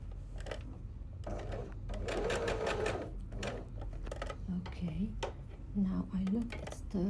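A sewing machine stitches a slit in a sleeve with a quiet, rapid rattling hum, stopping and starting in short runs while someone speaks over it.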